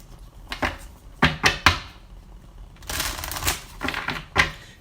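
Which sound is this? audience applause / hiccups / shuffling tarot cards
shuffling tarot cards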